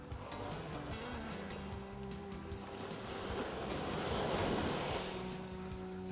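Surf breaking on a rocky shore while rock fishing, a steady loud wash of waves with a swell building midway, wind buffeting the microphone throughout.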